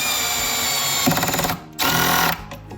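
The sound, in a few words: power drill driving Phillips head screws into drawer front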